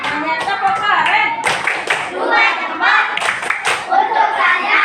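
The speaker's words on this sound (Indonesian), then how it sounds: "Tepuk tangan dulu buat kelas 4 semuanya. Tepuk keren." Fourth-grade class clapping in a classroom, bursts of rhythmic patterned hand claps with children's voices chanting between them.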